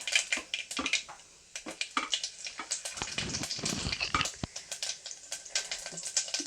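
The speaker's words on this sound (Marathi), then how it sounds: "आपण जिरे टाकून घेऊया" Cumin seeds crackle and pop in hot oil after mustard seeds, with dense irregular sharp crackles and sputters, close and fairly quiet, continuing steadily without talk.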